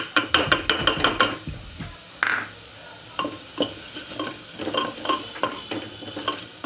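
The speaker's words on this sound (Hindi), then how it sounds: "अब इसमें मैं अपना मसाला जो है डाल दूँगी" Masala being stirred into fried onions in a hot pan, with a run of scraping spatula strokes over a soft sizzle, briefly pausing before the rhythmic stirring resumes, close and moderately loud.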